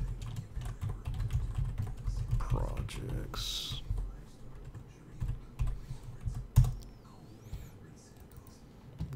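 Quiet clicking on a computer keyboard during game development work, soft uneven taps in bursts, with a person briefly speaking.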